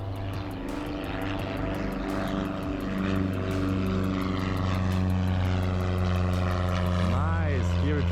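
A propeller airplane at an airport takes off, its engine drone steady and prominent with a rhythmic pulsing, while a person talks over it.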